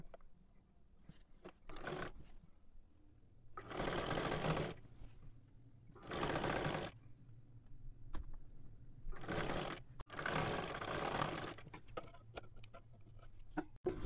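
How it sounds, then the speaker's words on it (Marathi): A sewing machine stitches along the edge of a kurti strip in several bursts of running, separated by short pauses, with a steady mechanical whir close by and no talking. "अशा पद्धतीने ठेवून एकदम कडेकडेला आपल्याला पूर्ण शिलाई करून घ्यायची आहे."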